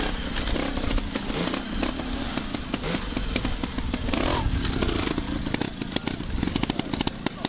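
A trials motorcycle bounces its front wheel and climbs a rough, technical section at an East of England trial, its engine crackling and revving close by amid clattering over rock.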